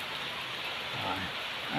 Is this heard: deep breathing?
no